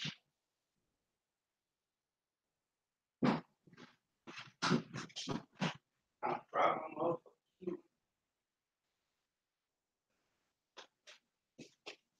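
A dog left outside in the cold whines and cries in a cluster of short, close bursts, then falls silent before a few faint, brief yelps near the end.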